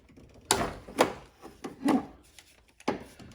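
A wrench breaks loose and turns the 14 mm compression line fitting, a banjo fitting, on the steering pump of a 2005-2009 Subaru Legacy. A few separate close metallic clicks and scraping turns come with pauses between them.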